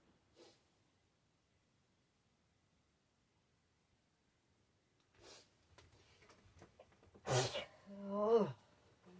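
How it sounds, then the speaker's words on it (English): After a long quiet stretch and a few soft rustles, one person lets out a sharp, explosive sneeze close to the microphone, and a brief spoken exclamation follows right after. "I wish it was just one sneeze."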